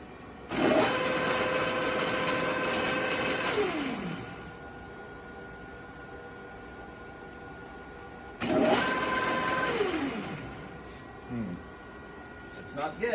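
A restored Cincinnati Bickford radial arm drill press starts up on its first run, a steady mechanical whine that winds down, then starts again for a second shorter run, fairly close and loud with no talk.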